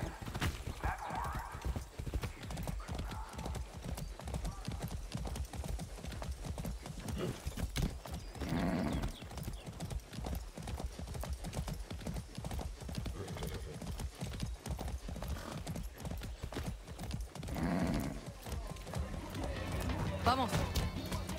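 Rapid, rhythmic hoofbeats of a galloping horse in the video game Far Cry 6 continue throughout, with occasional whinnies and a voice speaking over the steady pounding.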